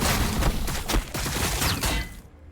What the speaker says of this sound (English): Receiving fire. It's actually quite good fire.